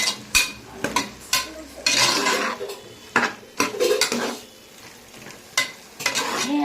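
Coconut paste and vegetables sauté in a pan under a soft sizzle, punctuated by repeated sharp clanks and scrapes of a metal spatula stirring against the pan.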